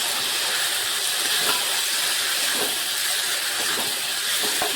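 Chopped tomatoes hit hot spiced oil in a pan for a moringa curry, setting off a loud, steady hiss and sizzle with scattered crackles throughout.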